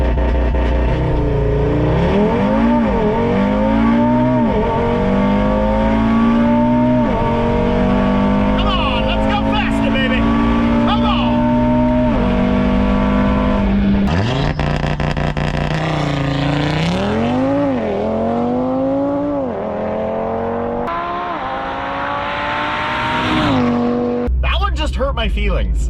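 An Audi RS3 on a tuned TTE700 turbo setup, running 93 octane, accelerates hard down a quarter-mile strip, engine note climbing through several gear shifts with rising and dropping revs, loud and close, under occasional talk.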